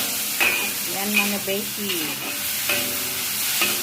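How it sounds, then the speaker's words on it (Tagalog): Minced pork frying in oil in a pan, with a steady sizzle and stirring that carries through, while someone speaks briefly over it. "Then, put some water."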